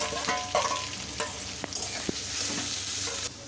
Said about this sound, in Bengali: পেঁয়াজ কুচি, টমেটো কুচি, রসুন কুচি সব একসাথে দিয়ে দিলাম